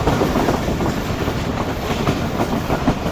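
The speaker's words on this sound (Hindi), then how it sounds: "दोस्तों, 9:25 पर ट्रेन हमारी पहुंच चुकी है वजीराबाद शहर में" Subak Raftar railcar running into Wazirabad, a steady rhythmic clickety-clack of wheels over rail joints with a rumbling carriage, heard from inside the moving train without voices.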